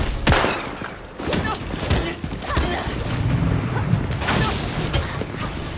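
Bursts of gunfire in the video game Gotham Knights, sharp loud shots scattered irregularly through a busy combat mix with crashes and impacts.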